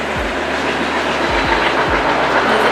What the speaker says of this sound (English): there's a train going